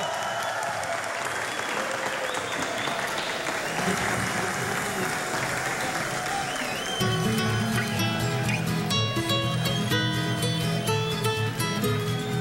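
Applause from a crowd fills the clip, a broad hiss of clapping that continues as music enters partway through.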